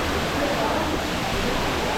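Cachoeira das Andorinhas, a waterfall in Ouro Preto, pours with a loud, constant broadband roar that stays steady and unbroken from start to finish.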